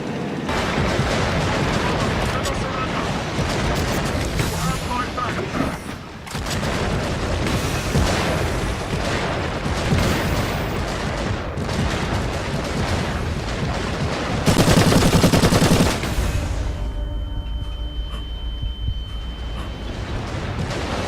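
Repeated heavy plasma cannon blasts in a Space Marine video game and mechanical clanking fire in a dense, loud barrage, with booming impacts and whirring machinery throughout.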